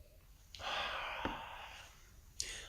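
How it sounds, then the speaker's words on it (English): Sniffing at a glass of Akashi Meisei Japanese blended whisky: a long, steady close inhalation through the nose, with a short sharp sniff just before it and another brief sniff near the end. "I'm going to coat the glass a little bit here and take a nice little sniff."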